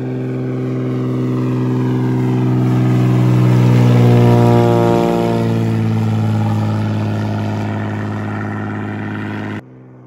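A preheated engine starts up on a cold Alaska bison hunt: a loud, steady engine hum that swells to a peak at mid-clip, briefly dips, then settles into an even idle before stopping abruptly.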